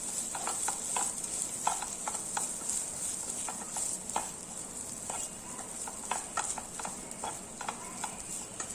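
A spoon stirs rice dishes such as carrot rice in a pan over low heat in a home kitchen, giving a steady scraping and tapping rhythm over a soft continuous sizzle, close and moderately loud, with no talking.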